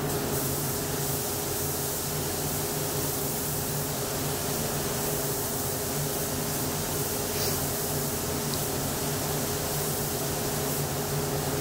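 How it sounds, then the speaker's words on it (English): A steady, continuous hiss of a spray gun spraying paint on a Gretsch guitar runs unbroken for the whole stretch, close and even in level, with a faint low hum beneath. "Spray the sides, then spray the back, and spray the front."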